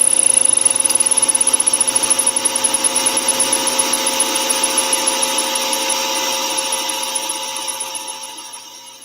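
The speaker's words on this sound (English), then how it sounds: "All right, spindle gouge." A wood lathe spins as a spindle gouge cuts hardwood with hard sap between the growth rings, giving a steady scraping hiss over the motor's hum that fades near the end.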